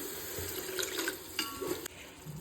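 Water pours from a vessel into a pot of prawn biryani gravy, a splashing, gurgling stream of moderate loudness that surges a few times and then cuts off abruptly, with no one speaking.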